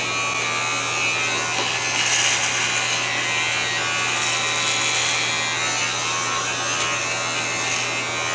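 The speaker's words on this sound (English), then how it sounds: "So you begin by shaving off this." An electric razor shaves excess hair off a goatee, a loud, close, continuous buzzing hum that holds steady throughout with slight shifts in tone as it moves across the hair.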